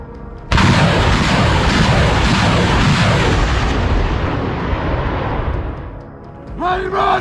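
A grenade strikes a tank turret in wartime combat footage, setting off a loud, sustained explosive roar that lasts several seconds before fading, followed by a faint voice near the end.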